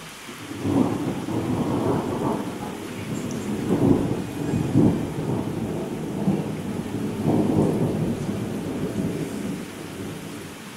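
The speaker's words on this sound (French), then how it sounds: "Le bruit de fou, c'est un bel orage qui est en train de passer là par chez nous" A thunderstorm passing over a home, with low rolling thunder rumbles swelling and fading several times over a steady wash of heavy rain, no voices.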